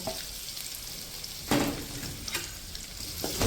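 Small onions sauté in a pan for a greens and kheema gravy with a steady, close sizzle, broken by a few sharp scraping stirs.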